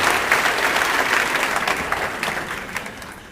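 An audience claps enthusiastically, a loud, dense wash of applause that gradually tapers off.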